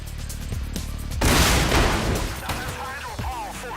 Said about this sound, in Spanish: A ver la animación de explosión